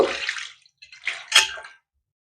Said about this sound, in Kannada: ಇದ್ರಾಗ ನೀರು ಹಾಕೋಬೇಕು